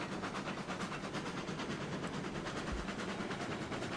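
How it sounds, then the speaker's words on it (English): Locomotive pulling a train out in the video game RailRoads Online, a steady low rumble with rhythmic clacking wheels, continuous and moderately loud throughout. "All right, moving the train out."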